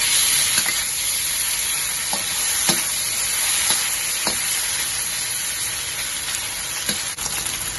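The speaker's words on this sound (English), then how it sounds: "Now fry until you can see some burn mark on the top." Pork cubes coated in dark soy sauce fry in a pan with a loud, steady sizzle and hiss, broken by a few light scrapes and taps of a utensil.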